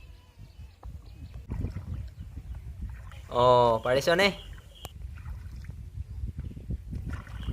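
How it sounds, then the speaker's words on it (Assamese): A small boat is rowed on the swollen Brahmaputra river, with soft, irregular oar splashes and gentle water sounds throughout; a voice briefly speaks a short question near the middle. "ব্ৰহ্মপুত্ৰৰ বুকুত নাও বোৱা শিকিম"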